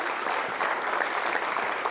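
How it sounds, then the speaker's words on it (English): Audience applause at a winter signing day ceremony for high school athletes, a steady, dense wash of clapping from a crowd that fills the whole stretch without pause. "So give yourselves a round of applause."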